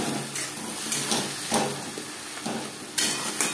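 Chopped onion with a garlic, onion, ginger and green chilli spice paste frying in a pan for a bhetki fish-bone chorchori, a continuous close sizzle broken by several sharp stirring scrapes and clatters.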